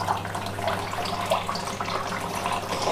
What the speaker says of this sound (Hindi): और इस तरह से देख सकते हैं यहाँ पे पानी ने धीरे धीरे जाता है, जिसके कारण ये कंप्लीट पूरा वेट हो जाता है,